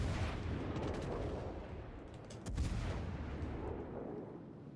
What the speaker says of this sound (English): anti-aircraft gun go off